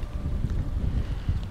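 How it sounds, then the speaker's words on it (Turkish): Wind buffets the microphone on the open Manzikert (Malazgirt) battlefield in eastern Turkey, a steady, loud, low rumbling roar with gusty swells and no voices. "Bu arada bugün bir rüzgar var burada. Nasıl esiyor ortalık,"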